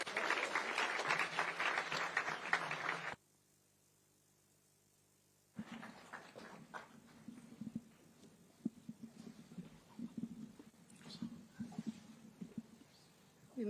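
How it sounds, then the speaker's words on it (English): Audience applause greeting the First Lady of Kenya at a Nairobi event, a dense burst of clapping for about three seconds, then a pause, followed by quieter scattered clapping and crowd murmur. "Thank you, and with a hand clap."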